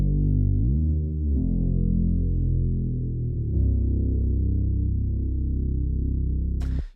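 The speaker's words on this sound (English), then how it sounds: "A popular bass to use in the verse of a selected style deep house track is a Reese bass" A deep, thick detuned Reese bass synth for deep house holds long notes and glides smoothly between pitches with portamento, playing alone, loud and sustained.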